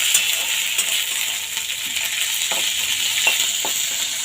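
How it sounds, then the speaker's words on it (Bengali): Neem leaves fry in a little oil in a pan, a steady bright sizzle with occasional light scrapes and clinks of stirring, close and continuous with no talking. "একটু নেড়ে দেব।"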